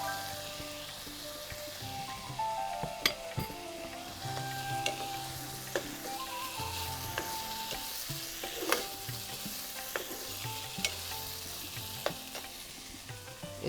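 Peas added to a hot pan sizzle and fry steadily while a utensil stirs them, with soft scrapes and sharp clicks against the pan, close and fairly quiet.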